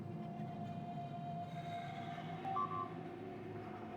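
Trains in the factory-building game Factorio rumble steadily at low volume, with a faint tonal hum and a brief electronic beep partway through.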